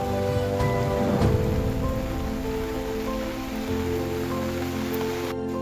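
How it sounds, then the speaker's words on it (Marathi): Rain falls steadily in a continuous hiss over a village in the Konkan, with a low rumble underneath; a dense, close, unbroken wash of sound with no voices. "मध्येच पाऊस पडायला चालू झालाय"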